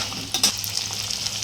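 Peas and tomato hit potatoes and spices frying in a pan for a potato dum curry, giving a soft steady sizzle with a few quick stirring scrapes near the start.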